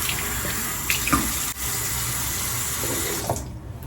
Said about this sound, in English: my water in my sink takes forever, literally, to warm up